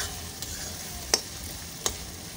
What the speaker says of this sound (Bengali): 3 থেকে 4 মিনিট রসুনটাকে একটু ভালো করে কষিয়ে নেব